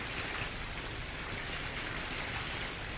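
Steady, even hiss of heavy rain falling in a rural setting, a dense wash of drops that stays constant throughout without any voices.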